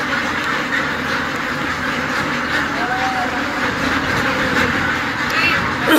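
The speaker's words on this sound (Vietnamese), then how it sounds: "Cả nhà thấy trại vịt kinh khủng không?" Crowds of farmed ducks quacking together inside a large duck farm shed, a dense, continuous loud chorus of overlapping calls with voices talking beneath.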